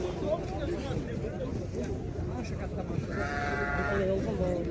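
Busy chatter from several people at a sheep market in Bishkek, Kyrgyzstan, fills the background, and a fat sheep lets out a wavering bleat toward the end.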